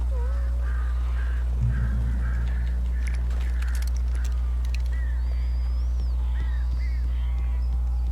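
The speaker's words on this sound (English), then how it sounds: "These birds are weird." Crow-like birds cawing inside a cabin in the Alan Wake video game: a series of harsh calls at varied distances, some overlapping, over a loud constant low drone of game ambience.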